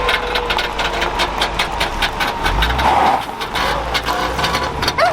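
An old Jaguar car engine runs at a steady idle nearby, a rough low rumble with a brief surge in the middle, and no talk.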